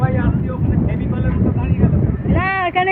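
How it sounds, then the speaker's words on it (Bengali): Strong wind gusts across Bakkhali beach, a heavy rumbling roar buffeting close and loud throughout. Voices talk over it, clearer near the end. "একজন বলছিল ঝড় উঠবে, উঠে গিয়েছে, এমন হাওয়া"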